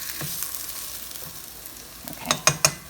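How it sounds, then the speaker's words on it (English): French toast fries in a pan with a soft steady sizzle, followed by three sharp scraping clinks of a spatula near the end, close by and without talking. "I'm going to let them cook for about another minute or so on this side until that side is nice and browned"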